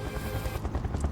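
Helicopter in the video game Final Fantasy VII Remake, a rotor drone that turns into rapid, pulsing chops partway through, loud and close, with no voices present.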